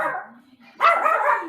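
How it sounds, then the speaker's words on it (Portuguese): A dog barks in a short burst of loud, close barks that follow a quieter murmur of background sound, with no talking over it. "Até os cachorros se manifestam em seu favor, Márcio Cambaúva"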